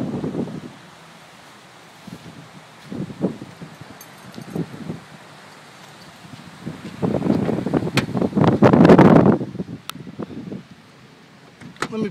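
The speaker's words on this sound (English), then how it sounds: "Probably sounds pretty windy out there. You see all the trees blowing around." Gusty wind from a passing tropical storm rushes through trees outdoors, with rustling bursts that rise into a loud, sustained surge near the end. No one speaks over it.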